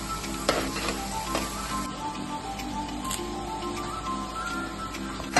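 Ingredients for a lubika (lovi-lovi) pickle fry in hot oil, a steady close sizzle and crackle running throughout, with a few light clicks of stirring on top.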